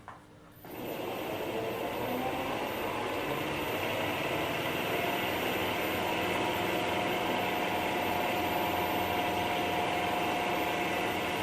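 A wood lathe spins a beech and CD blank at slow speed while a roughing gouge works it. A steady motor whir and drone starts abruptly and holds level, close and loud, with no talking.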